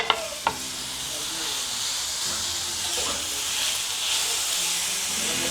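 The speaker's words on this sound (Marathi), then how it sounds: "थोडंसं तेल टाकले मी भाजण्यासाठी। कोथिंबीर टाकून घेते मी," Oil sizzling and hissing steadily in a pan with coriander while onion and tomato are roasted for a katla fish curry, close with a couple of sharp knocks at the start.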